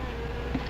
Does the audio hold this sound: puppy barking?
no